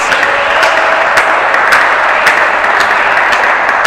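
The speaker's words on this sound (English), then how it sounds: "Big cheers from the crowd." Spectators at a 2024 FLM Super League match break into loud, sustained applause and cheering, with dense crackling clapping and scattered sharp claps carrying on at full volume the whole time.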